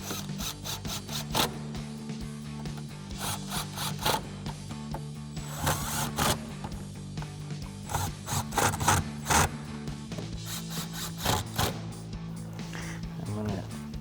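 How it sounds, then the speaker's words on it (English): A 3/8 air gun with a 10mm socket rattles in quick repeated bursts, tightening bolts on a 2009-2023 Dodge Challenger short throw shifter, close and loud with scraping and rubbing between bursts. "take my 10mm and my 3/8 gun, tighten these up"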